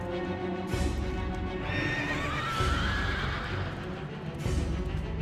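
A World of Warcraft Death Knight's glowing-eyed horse gives a loud, close whinny mid-stretch over continuous clip-clopping hooves, with no talking.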